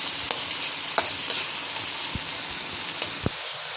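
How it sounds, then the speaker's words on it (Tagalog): Chopped tomatoes fry in a hot pan, giving a steady soft sizzle with a few quiet clicks and taps of a utensil against the pan, heard alone at low volume. "Lulutuin muna natin guys ang kamatis"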